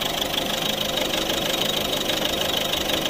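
A Mazda 6 2.0 petrol engine rated at 140 hp idles with the bonnet open, a close, steady ticking hum with an even mechanical patter throughout and no speech.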